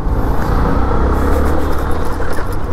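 A car drives the wrong way down a busy Pune street, producing a loud, close, continuous engine rumble and road noise that never lets up.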